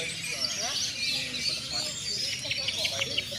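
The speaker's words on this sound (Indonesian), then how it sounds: "Suara kita jaga, kita nikmati suara burungnya." Songbirds chirp and trill steadily at a crowded bird singing contest, with participants from North Sumatra and Aceh, their overlapping calls set against a busy murmur of people talking nearby.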